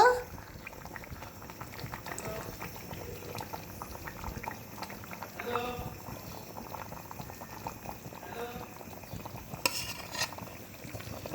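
Pabda fish curry simmering in a thin broth with ridge gourd, a steady bubbling boil with faint clinks of a spoon and pot, close and even throughout, no speech.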